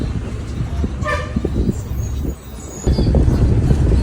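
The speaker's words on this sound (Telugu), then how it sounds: "అంబాజీపేట బస్ స్టాండ్ లోపలికి బస్సు వెళ్తుంది." An APSRTC bus rolls into the Ambajipeta bus station with a steady engine rumble and road noise. A short horn toot sounds near the start, and the rumble grows louder toward the end with faint voices in the background.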